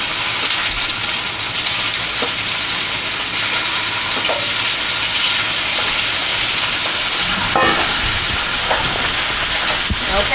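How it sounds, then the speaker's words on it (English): Duck sautés in a hot pan, giving a loud, steady sizzle and hiss with occasional stirring scrapes and pops throughout. "I like to hear that sizzling sound"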